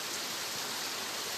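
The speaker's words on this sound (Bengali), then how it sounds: "মুষলধারে বৃষ্টি হচ্ছে এখন, খুব বেশি বৃষ্টি" Heavy pouring rain falls in a steady, dense hiss across the whole short moment, even and fairly soft, with no voices.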